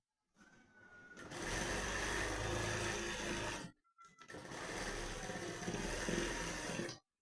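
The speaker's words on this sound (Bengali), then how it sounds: "এই দাগে দাগে সেলাই করে দেবো" A sewing machine stitches a blouse along marked lines in two loud, close, steady runs of whirring, split by a short pause.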